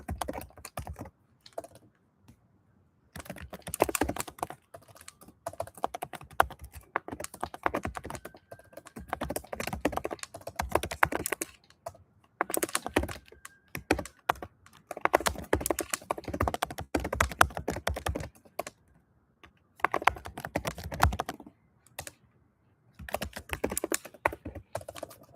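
Rapid typing on a computer keyboard, a steady patter of soft clicks going on for a long stretch with brief pauses, close by and fairly quiet.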